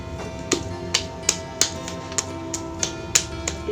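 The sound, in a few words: patting clay by hand for pottery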